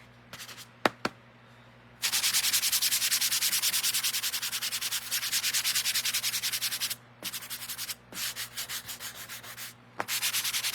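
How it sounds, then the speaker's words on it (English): Red paint being sanded with a well-worn sanding block: brisk, rhythmic back-and-forth rubbing strokes, close and fairly loud, in long runs broken by short pauses and a few taps. "let me sand this red down a little bit"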